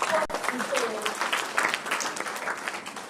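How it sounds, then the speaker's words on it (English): Audience at a national climate dialogue event applauds the organizers with a sustained patter of clapping, fairly close and moderate in level, with a few voices and a speaker heard over it. "Please clap for the Joining Forces."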